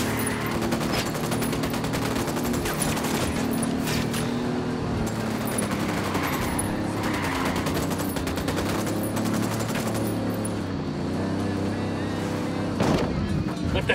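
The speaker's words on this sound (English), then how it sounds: "Opening fire." Sustained gunfire in Ghost Recon Wildlands, with dense bursts of automatic fire and explosive reports over continuous game-world rumble and vehicle noise, loud throughout, with a sharp blast near the end.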